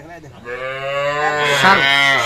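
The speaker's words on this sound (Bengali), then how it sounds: "এটা হচ্ছে প্রথম নাম্বার গাভীটা আর বাচ্চাটা এটা" A Sahiwal cow moos in one long, loud, close call that rises and swells before trailing off, with no other voices.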